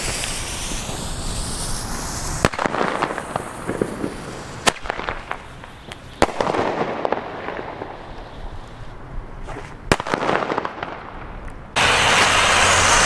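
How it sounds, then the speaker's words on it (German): New Year's Eve fireworks crackle and hiss continuously outdoors while several sharp, loud bangs from Thundercracker firecrackers punch through at irregular intervals, ending in a burst of dense, noisy crackling. "zwei Thundercracker hier mit übergeilem Sound"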